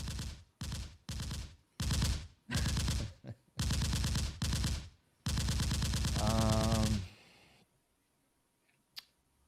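Several rapid bursts of automatic gunfire in quick succession, then a long sustained volley before it falls silent.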